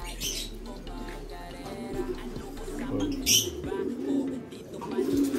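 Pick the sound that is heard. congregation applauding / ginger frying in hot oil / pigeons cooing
pigeons cooing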